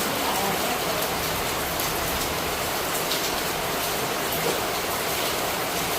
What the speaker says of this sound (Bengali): ভালো জোরে বৃষ্টি,